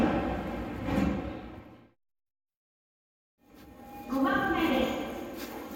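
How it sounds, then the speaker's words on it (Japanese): Namboku Line subway train doors slide and thud shut at a station platform, set among busy station noise that cuts to a brief silence before the platform din returns. "ドアが閉まります"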